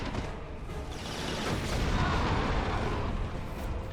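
Explosions and heavy gunfire boom through a battlefield in the shooter game Resistance: Fall of Man, a dense, rumbling wash of blasts that swells toward the middle and stays fairly soft, with no talking.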